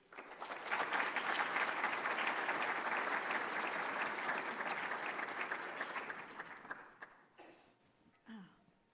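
An audience applauds to welcome a speaker to the stage. Dense, steady clapping from a large crowd fills about seven seconds, then thins to a few scattered claps and fades, with a brief voice at the end.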